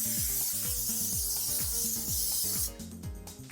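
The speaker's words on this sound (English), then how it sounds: "grab that spray and spray that tray." Cooking spray is sprayed onto a baking tray, giving a steady bright hiss that runs continuously over loud background music and cuts off shortly before the end.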